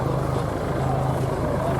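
A Wildcat helicopter flies at the Torbay airshow, its rotor giving a loud, steady low thrum that continues throughout.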